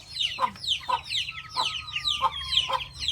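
Chickens cluck repeatedly in a steady, rhythmic series of short calls, close by and moderately loud, over a low background hum.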